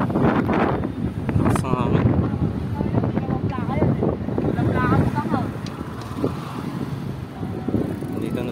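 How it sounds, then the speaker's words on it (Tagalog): Strong wind buffets the microphone with a steady low roar and gusts in Manila, while people talk and move nearby. "ang lakas ng hangin"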